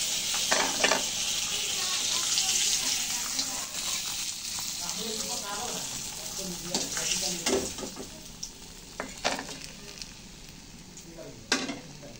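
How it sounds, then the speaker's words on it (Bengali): Pieces of China puti fish fry in hot oil in a pan, a steady bubbling sizzle broken by sharp scraping and stirring knocks of a spatula, with a faint voice briefly under the frying. "দেখুন মাছের পিসগুলো খুব ভালোভাবে ভাজা হয়ে গেছে।"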